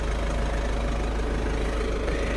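A 1.6-litre petrol engine in a Ford C-Max Zetec with a manual gearbox idles with the bonnet open, giving a steady close drone that holds evenly throughout with a faint ticking texture and no talk.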